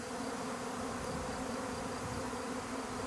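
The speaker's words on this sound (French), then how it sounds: "J'ai l'impression que l'essaim va se fixer sur une branche plus loin là." A swarm of honeybees in flight outdoors gives a dense, constant buzzing hum that fills the whole stretch at an even level, with no speech.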